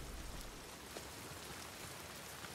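Steady rain hisses and patters in The Last of Us Part 2, an even, continuous wash of drops without a break, heard alone and fairly soft.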